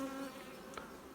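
Honey bees swarm around a hive during a beekeeping strength check, giving a steady, close droning buzz that holds without a break.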